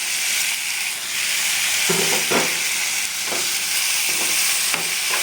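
Three medium tomatoes are stirred in a hot pan with a constant sizzle and hiss, and a spoon scrapes the pan in several distinct strokes close by.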